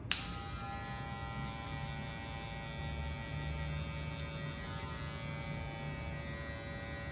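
Electric hair clipper with a comb guard, used on wavy hair, switching on with a click and then running as a steady close buzzing hum throughout, no voices.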